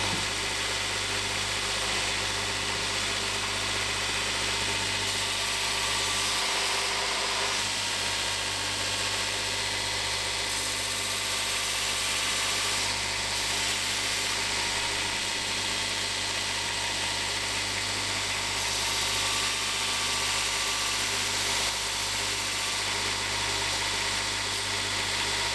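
Steady, loud grinding drone of a belt sander shaping a knife, a constant broadband whir with a low hum running unbroken throughout, alone with no talking.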